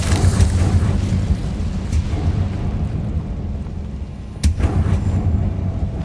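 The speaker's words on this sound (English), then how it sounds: "Incendio." The Incendio fire spell in Hogwarts Legacy bursts out with a deep rumbling boom under a low roar, then a sharp second crack about four seconds in, loud and close.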